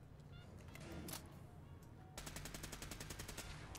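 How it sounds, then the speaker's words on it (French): Rapid shotgun blasts in the video game Fallout 4 fire in a dense burst over a low ambient hum, with a single earlier shot standing out alone. "ce shotgun il est très très bien, sauf que si vous vous mettez à tirer, regardez"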